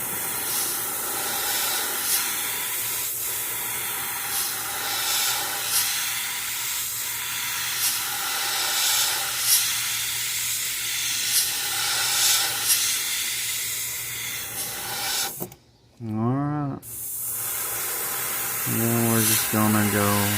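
An airbrush sprays paint onto a largemouth bass fishing lure in a steady, close hiss that continues for most of the time. It cuts out briefly near the end, when a voice talks.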